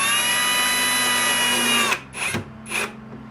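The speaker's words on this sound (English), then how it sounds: "Pine is so soft and this gun is so strong that if I over torque it, it'll go right through that pine." A power screw gun drives a pan-head screw through soft pine into hard mahogany with a sustained high whine, then stops and gives two short bursts as the screw seats.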